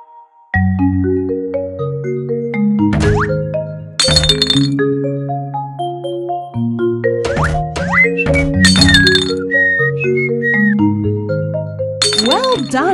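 Glass items clink and ding as they are dropped into a recycling bin, several bright chimes ringing out over a steady cheerful music backing.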